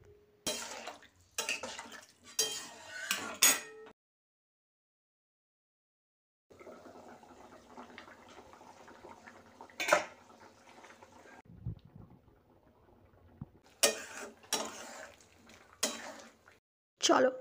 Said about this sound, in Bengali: এবার সব কিছু ভালো করে মিশিয়ে নিয়ে আমরা ততক্ষণ রান্না করে নেব যতক্ষণ না এটা প্রপারলি সিদ্ধ হয়ে যাচ্ছে